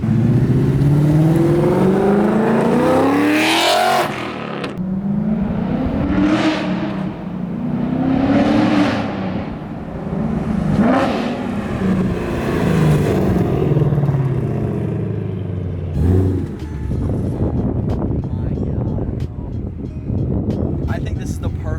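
Loud, close revving from a Ford Mustang Mach 1 fitted with long tube headers, several sharp rising exhaust blips rising and falling in sequence while people talk nearby.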